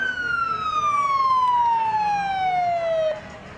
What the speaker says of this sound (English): there goes the sirens going off